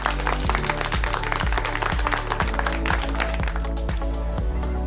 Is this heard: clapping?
yes